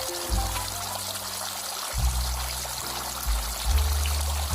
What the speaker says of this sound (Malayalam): അപ്പോൾ നമ്മളിതാ മോട്ടർ ഓൺ ചെയ്തിട്ടുണ്ട്. തരക്കേടില്ലാതെ അത്യാവശ്യം സ്പീഡിൽ തന്നെ വെള്ളം വരുന്നുണ്ട്.